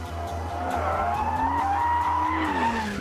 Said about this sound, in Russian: DB11 — первая машина Астона, которую мне понравилось водить на гоночной трассе.